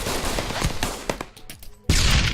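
Rapid pistol shots in the VR shooter Pavlov during a competitive match, loud overlapping cracks for over a second, a brief lull, then another burst.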